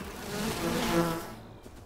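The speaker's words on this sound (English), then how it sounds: "I'm swinging my sword at a bunch of bees." A swarm of bees in the survival video game Enshrouded drones in a loud, steady buzz close by for nearly two seconds, then fades out abruptly.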